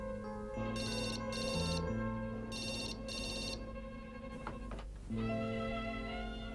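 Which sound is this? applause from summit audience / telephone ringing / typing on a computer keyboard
telephone ringing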